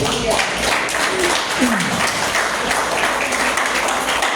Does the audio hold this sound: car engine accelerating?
no